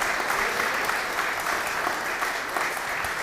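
A crowd applauds Captain Santos as he receives a recognition diploma at a ceremony, a dense, steady wash of clapping that holds evenly for a few seconds.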